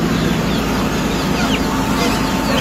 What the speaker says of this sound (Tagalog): Kakain na ang mga manok.